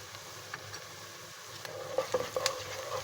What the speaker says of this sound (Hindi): और इसको थोड़ा सा फ्राई करेंगे ताकि मसाले से अच्छी सी खुशबू उठना शुरू हो जाए।